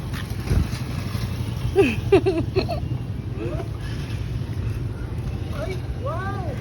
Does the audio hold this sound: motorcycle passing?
yes